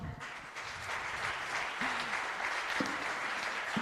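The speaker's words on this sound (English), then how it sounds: "let's give them both a round of applause" Steady audience applause for two people on stage at a fintech awards ceremony, a dense even patter of many hands clapping throughout, with a few faint voices mixed in.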